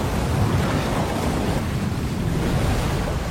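A swift river current in a war film scene rushes as a dense, steady wash of water noise at moderate volume, with no voices.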